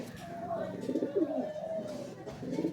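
Flying-breed pigeons coo softly in a low, rolling murmur, close by, with a faint voice in the background.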